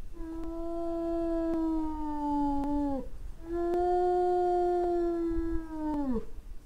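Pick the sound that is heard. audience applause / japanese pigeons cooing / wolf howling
wolf howling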